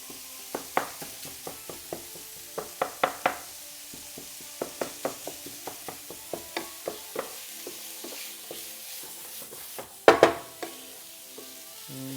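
Sausage grilling in a pan, with a steady run of sharp crackles and pops close by and a louder cluster of spits near the end, with no voices.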